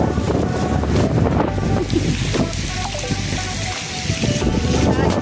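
Strong wind buffets the microphone in loud gusts, roaring continuously, with voices faintly audible beneath the rush.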